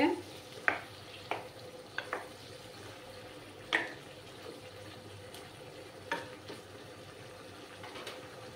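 Mutton masala sautés quietly in a pan, a faint low sizzle punctuated by a handful of sharp spatula taps and scrapes, close but soft, with no one talking.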